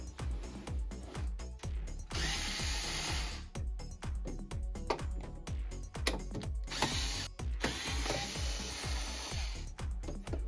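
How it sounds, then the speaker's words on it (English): A ratcheting driver takes five screws out of the top cover of a JBL PartyBox 1000 speaker. Steady rapid clicking runs throughout, with two longer, louder whirring bursts of the tool, close up and without talk. "We will go ahead and remove 5 screws to remove the top cover."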